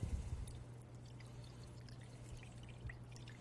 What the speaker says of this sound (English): take some water and let's put it in this pan